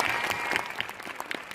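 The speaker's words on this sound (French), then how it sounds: "Vous pouvez l'applaudir pour ça." An audience claps steadily for a director's first film, a crowd of hands applauding at moderate volume throughout.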